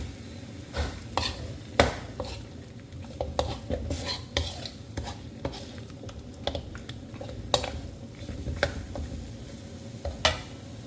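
Pork ribs are stirred through Thai curry paste in a pan, with repeated sharp scrapes and clinks of a utensil against the metal over a low frying sizzle, irregular and close, and no talking.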